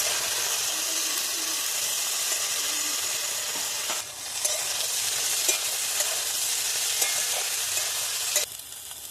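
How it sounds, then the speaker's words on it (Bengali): Vegetables go into a pan of hot spices frying in oil, giving a steady close sizzle and hiss with stirring scrapes and small clicks throughout, a brief dip and then a louder burst of sizzling. "ফোড়নগুলো ভাজা গেছে এবার ওর মধ্যে আমি সব সবজিগুলো দিয়ে"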